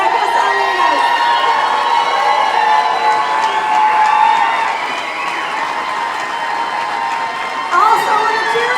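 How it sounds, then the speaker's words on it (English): A cheering section of a crowd whoops, shouts and applauses loudly and continuously at an evening hometown heroes press conference reveal, rising in bursts with children's shouts mixed in. "Also with a cheering section."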